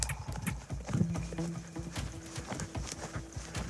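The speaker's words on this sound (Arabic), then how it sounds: "يا لها من متعة في ركوب الحصان" Pony hooves clip-clop in a quick, steady rhythm while a rider is carried along, close and moderately loud, with a faint voice in the background.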